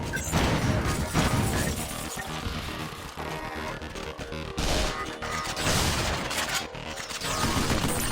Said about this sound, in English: Let's try firing something different.